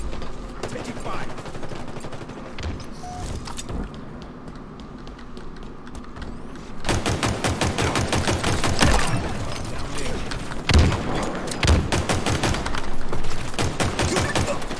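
Gunfire in a Halo Infinite big team battle, with scattered shots and faint voices at first, then sustained rapid automatic bursts close and loud for the second half.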